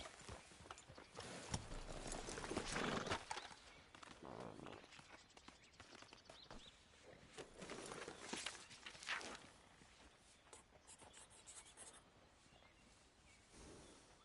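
Hooves clip-clop on and off across a Wild West cowboy video game, loud in bursts and softer between, mixed with other game noises.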